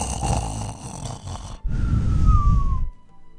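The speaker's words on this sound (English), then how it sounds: "His incredible snoring." Loud snoring from the video game Hatoful Boyfriend, two long rasping breaths, the second with a rising whistle-like tone that fades out, close and alone.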